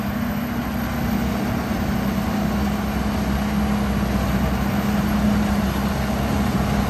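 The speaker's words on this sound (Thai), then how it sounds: "เครื่องเป็นเครื่องยนต์ฮิโน่ JO8E ฮะ เครื่องเขามันเร็ว" A Hino JO8E diesel engine drives a twin Daikin pump, holding a loud, steady, close mechanical drone with a low hum and no break or change in pitch throughout.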